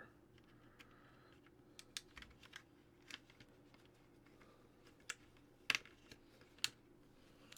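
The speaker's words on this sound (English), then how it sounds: "let's put these keycaps on" Keycaps being pressed onto a computer keyboard, sparse sharp plastic clicks and snaps at irregular intervals, close and quiet, with a few louder pops among soft handling noise.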